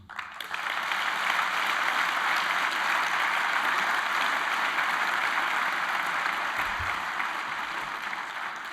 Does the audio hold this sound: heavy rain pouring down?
no